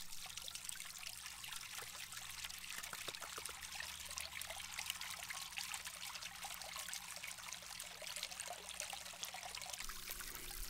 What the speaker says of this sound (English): I just want a little trickle out of the top so that it just flows down two faces